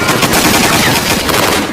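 Dense, continuous automatic gunfire from a film shootout, loud and unbroken rapid bursts filling the whole moment.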